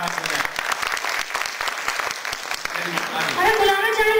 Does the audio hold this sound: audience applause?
yes